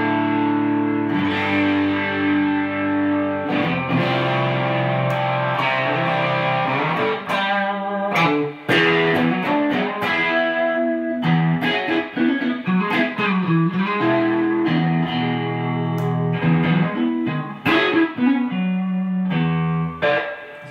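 Electric guitar played through a fuzz pedal set at middle gain and middle tone: distorted, sustained chords and single notes with gritty, saturated tone, shifting through a bluesy rock phrase.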